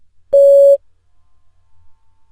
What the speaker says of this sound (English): Please prepare your answer after the beep.